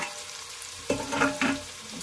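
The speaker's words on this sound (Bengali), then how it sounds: "পেঁয়াজটা লাল লাল ভেজে নেব," Sliced onions frying in oil while being browned for a Bengali chicken dish, a quiet steady sizzle broken by a few brief stirring scrapes and spatters.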